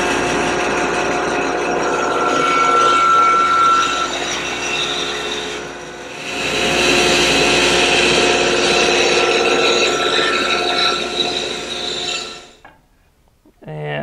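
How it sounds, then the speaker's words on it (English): A bandsaw cuts away waste from a wooden board in a woodshop, a steady close whine with a harsher rasping swell midway as the blade works through the wood, then it winds down near the end. "let's head over to the bandsaw and cut away this extra waste"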